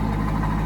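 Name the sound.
LS1 car idling with aggressive aftermarket Corsa exhaust rumble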